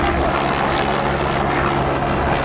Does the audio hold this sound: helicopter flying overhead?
yes